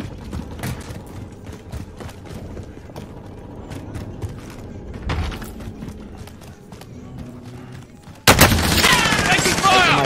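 Gunfire in the Warzone shooter video game: scattered close single shots and short bursts over busy game ambience, ending in a loud, dense barrage of fire, with no talk.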